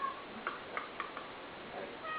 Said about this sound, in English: Sorry, my cat thinks I'm making some tuna fish.